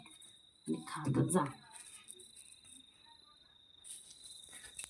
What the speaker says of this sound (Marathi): रातकिड्यांचा आवाज येतच असेल.